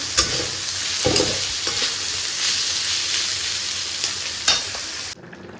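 Fish sizzles in hot oil in a home kitchen pan, a loud steady crackling hiss with a few sharp spatters and clinks, cutting off abruptly near the end.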